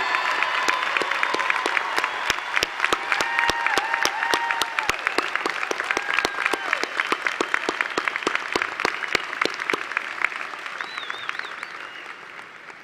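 Audience applause at a 2021 high school graduation ceremony honoring members of the armed forces, a steady dense clapping that holds for about ten seconds with a few louder individual claps, then starts to thin near the end.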